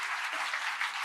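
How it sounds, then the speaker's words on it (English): Energetic audience at an AI congress and awards event in Pune applauding steadily, a dense wash of clapping lasting about a second with no voices over it. "I would say huge rounds of applause to this audience, this very energetic audience."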